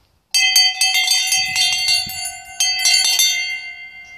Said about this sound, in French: Déjà, les cloches ont ralenti.